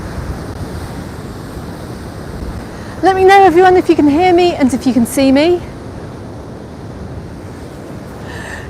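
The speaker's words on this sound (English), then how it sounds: "you can probably hear the wind noise here." Strong wind rumbling across the microphone at the Can Pastilla seafront in Majorca, with waves rolling in under it, a steady loud roar throughout while someone speaks briefly in the middle.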